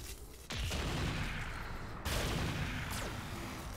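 Mech weapons unload in RogueTech, firing everything at once: two heavy blasts hit sharply with sustained rumbling roars after each, and a lighter shot follows, all loud and close with no talk.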